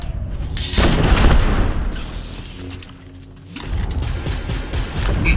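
Fortnite gunfire booms loudly in heavy blasts and rapid bursts, with a brief quieter lull in the middle before shots and rumbling resume close and strong.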